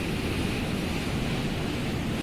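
Steady broadband roar of sea surf mixed with falling rain at Cox's Bazar beach, loud and continuous with no voices, cutting off abruptly at the very end.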